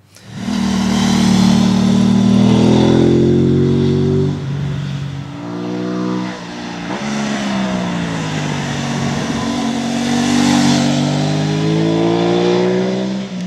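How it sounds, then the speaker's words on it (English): A 2020 Aprilia RS 660 motorcycle engine revs loudly and alone, its pitch climbing and falling through several sweeps with a steady close drone between them. "It sounds like a V4. It sounds great, but just slow revving V4."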